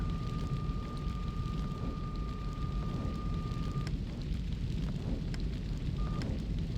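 Torpedo explosion against a tanker in the submarine game Silent Depth 2, a dense low rumbling roar that fills the whole stretch with a steady tone running through the first half and faint crackles on top.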